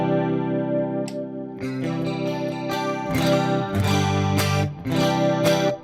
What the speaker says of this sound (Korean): 코러스를 이렇게 걸어주는데,